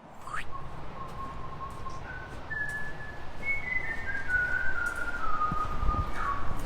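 A person whistles a meandering tune, slow sliding notes rising and falling over a steady background rumble.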